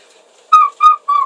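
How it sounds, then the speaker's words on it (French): Three short, loud seagull calls ring out close by in quick succession at Le Tréport, each a bright, slightly descending cry against near silence. "Ah, ça y est, j'entends les mouettes."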